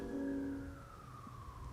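A distant ambulance siren drifts in the background, its tone sliding slowly downward as it passes, faint beneath a steady outdoor hum.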